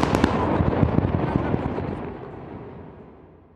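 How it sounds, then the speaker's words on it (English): Tunnels at a North Korean nuclear test site being blown up, a loud rumbling blast with sharp cracking bursts at the start that rolls on and fades away over several seconds. "they blew them up. These were major explosions."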